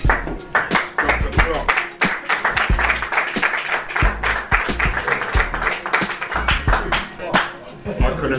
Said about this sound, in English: I'm sure you're not clapping for me